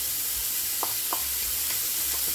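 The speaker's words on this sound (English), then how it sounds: "Go ahead and drop your onions in." Onions dropped into hot rendered pancetta fat in a pan, giving a low steady sizzle with a few soft pops, faint and close, no voices.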